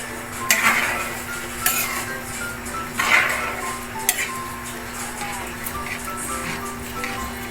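Ingredients for a vegan fortified monggo (mung bean) dish being mixed in a metal pot, with a spoon clanking and scraping against the sides at irregular intervals over a low steady hum, close by.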